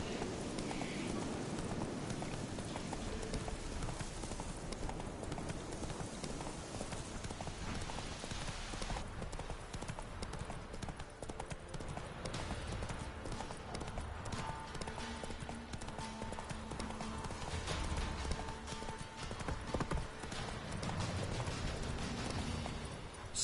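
Roach, a horse in The Witcher 3 video game, clip-clops steadily and loudly under a dense, constant mix of game ambience, the hoofbeats carrying on throughout.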